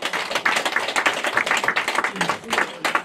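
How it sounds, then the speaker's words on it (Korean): A church congregation applauds warmly in a steady, dense patter of clapping, with voices faintly mixed beneath. "이 시간에 나오실 때 여러분 뜨거운 박수로 환영해 주시기 바랍니다."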